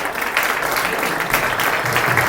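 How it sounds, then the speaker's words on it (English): An audience at a digital technology festival in Zurich applauds to welcome a CEO to the stage, a dense, steady roar of clapping with no gaps, filling the hall from start to end. "Ladies and gentlemen, a big hand of applause."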